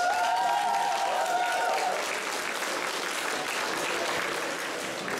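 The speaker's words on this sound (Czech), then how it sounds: "Prosím potlesk" Large audience at a business and hotel school graduation ball in Havlíčkův Brod applauds the class teacher, a continuous, even roar of clapping, with a brief tonal ringing at the start.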